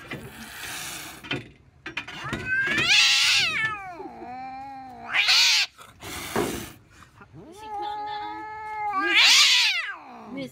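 An angry cat caterwauls in long, drawn-out yowls and growls, several loud wavering howls separated by short pauses and hisses, close and without any talk.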